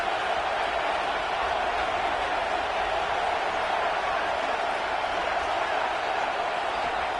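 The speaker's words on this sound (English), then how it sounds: "this crowd is turning it up a notch" Football stadium crowd at an Oregon at Oklahoma State game roars steadily as second down approaches, a dense, sustained wash of cheering with no pauses throughout.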